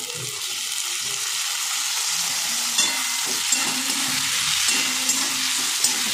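Onion and tomato stir-frying in a pan for a traditional Bhogi mixed vegetable dish, with steady close sizzling and a few soft stirring scrapes throughout, no talking.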